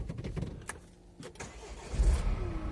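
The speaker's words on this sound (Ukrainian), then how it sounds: "Заведу машину." A Renault Master van with 138,000 km on it cranks and its engine starts, catching after a short churn and settling into a low idle rumble, close by.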